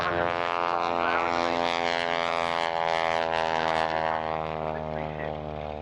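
Propeller-driven vintage aircraft at a Duxford air show, a sustained, droning engine with a rich steady hum that holds throughout and fades slightly toward the end.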